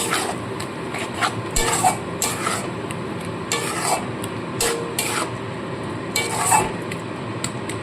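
A ginger, garlic, onion and green chilli paste is sautéed in a pan for a red chicken curry, with a spoon scraping and stirring in repeated strokes over a soft steady sizzle.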